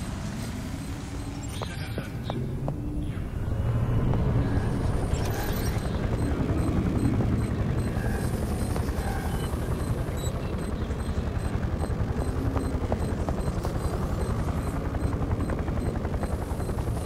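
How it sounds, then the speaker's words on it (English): Enemy drone hovering in the action game Remember Me, a steady droning whir that holds throughout at moderate level, layered under in-game music and ambience. "Gotta get past this drone."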